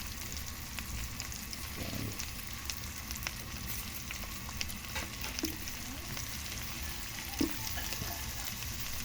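Shrimp frying in butter, a quiet, steady sizzle with occasional soft stirring clicks, no talking.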